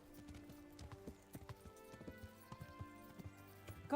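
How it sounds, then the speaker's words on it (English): Horse hooves clip-clop in a steady riding rhythm in the video game Kingdom Come Deliverance, close and fairly soft, with a brief faint whinny-like tone near the end. "I'm on a horse"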